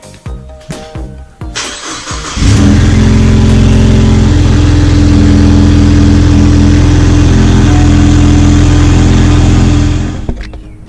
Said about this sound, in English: So it sounds pretty good for just having a catless downpipe and just holes cut in the muffler.